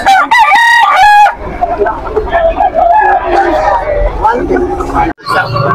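A young rooster crows loudly twice in quick succession at a busy livestock market in Calumpit, Bulacan, followed by clucking and chatter from people bargaining nearby.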